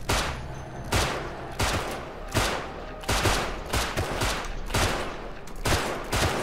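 Gunfire in the Rust survival game, a burst of loud shots in rapid succession spread across several seconds, up close with heavy echoing tails and no talk.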